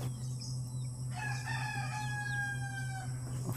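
Rooster crowing among chickens at a farmyard, one clear drawn-out crow rising and holding for about two seconds over a steady low background hum, fairly faint and distant.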